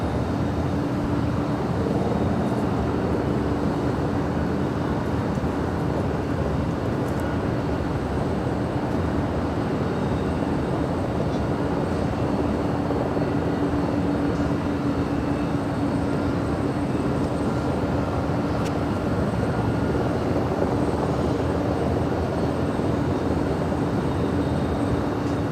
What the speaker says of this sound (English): Philippine Airlines Flight 113 heading to Manila. It's a 777-300ER is the next departure on 25 right.